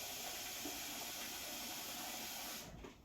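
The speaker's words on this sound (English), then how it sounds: "I really heard them boiling, and I put the top on and I think they're overboiling" A lidded pot of beans boils over on a stove, giving off a continuous broad steam hiss that holds steady and then suddenly cuts off near the end.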